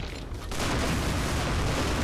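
A rocket launcher fires in the shooter game Grezzo Due, a sudden loud blast after a brief lull that rolls into a sustained roar and rumble, close and alone with no talking.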